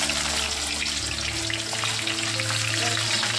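Chopped onion fries in hot oil with a dense, steady sizzle and soft crackling, close and continuous with no voices.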